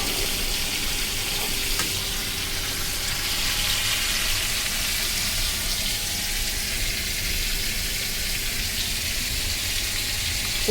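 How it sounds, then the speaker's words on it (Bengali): Pumpkin stalks fry in a pan with a steady, even sizzle that holds at the same level throughout, near and fairly loud, with no one talking over it. "তো দেখো এখন এইগুলো ভাজা হচ্ছে"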